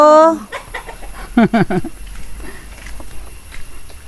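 Several chickens cluck in short, busy bursts close by, with one louder call at the start and quieter clucks trailing off.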